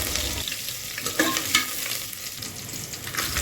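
Bay leaves, green chillies and curry leaves fry in hot oil for a rice dish, a steady close sizzle with stirring scrapes and a couple of sharper crackling pops near the middle.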